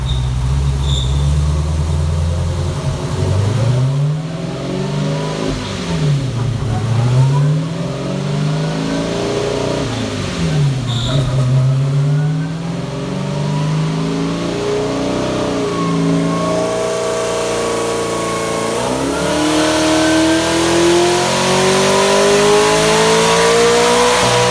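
A twin-turbo LS-powered 1969 Camaro revs hard in repeated rising and falling sweeps during a pull, then climbs in one long sustained surge, loud and close throughout.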